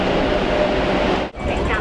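Hong Kong metro train at an underground subway station, a loud rumbling rush of the carriages moving close by that dips briefly near the end before continuing.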